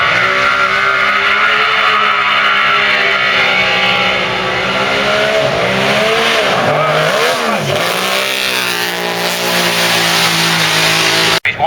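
An old racing motorcycle engine revs hard on a road course, a loud, sustained high-pitched wail that rises and dips in pitch as it winds up, close and dominating throughout.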